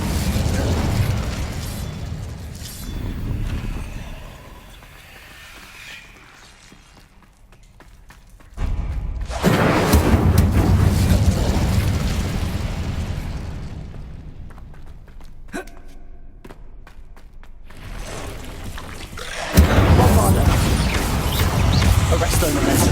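Incendio fire spells cast inside a tomb in Hogwarts Legacy, their fiery whooshing bursts rising and falling over a rumbling game soundscape, with a voice calling out spells.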